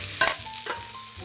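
Garlic and mixed vegetables stir-frying in a pan, with two quick bursts of scraping and sizzle from a spatula over a low background hum.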